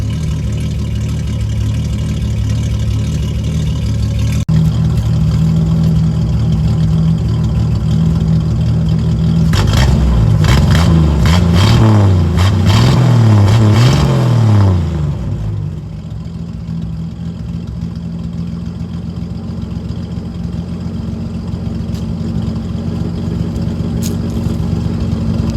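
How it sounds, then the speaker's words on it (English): A 1968 Chevy Camaro engine runs steadily nearby, a loud low rumble that swells through a few revs midway, then settles back to a steady idle. "But you see that this does run and idle on its own."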